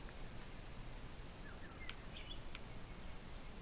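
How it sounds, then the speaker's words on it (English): Birds chirp on a Hawaii morning, giving a few faint high calls and tweets scattered over a steady background hiss. "You can hear the birds chirping."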